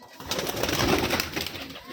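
A Rajshahi giribaaz flying pigeon coos in a loft, a soft throaty rolling call swelling and fading over a couple of seconds, close and clear with no talking.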